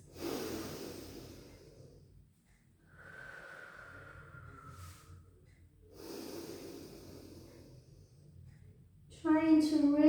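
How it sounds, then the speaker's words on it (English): Slow, deep breaths during a rehab Pilates child's pose rest, with broad airy inhales and exhales repeating in a steady rhythm, close and soft, and a brief higher sound at the very end. "Let's really rest in that position for a good minute, taking some deep in-out breaths."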